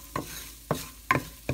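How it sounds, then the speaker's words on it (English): Three short scraping strokes of a spoon stirring a spoonful of flour into melted butter in a pan while making cream of broccoli soup, each scrape close and fairly soft with quiet gaps between. "now I have to add the 1 tablespoon of flour and just stir it around"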